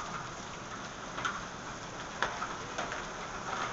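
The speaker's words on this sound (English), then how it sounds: "Okay, here comes more hail. Whole another section of hail coming now." Hail falls during a storm in Austin, Texas, making a steady, dense patter with a few sharper impacts standing out from the constant wash of falling ice.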